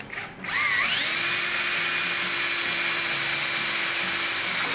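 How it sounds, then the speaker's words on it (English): A power drill whirs steadily and loudly after a brief start, holding a constant high whine through to the end, close by. "All right, I'm gonna drill a hole right about here."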